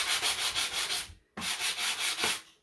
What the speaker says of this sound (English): I'm gonna sand this a little bit.